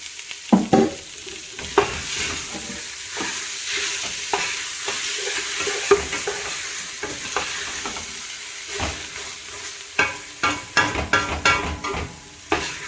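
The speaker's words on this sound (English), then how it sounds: "I go ahead and add the onion in and let it start cooking with the roux." Onion sizzles in a dark roux for chicken and sausage gumbo, giving a steady close frying hiss. Irregular stirring scrapes punctuate it, growing busier toward the end.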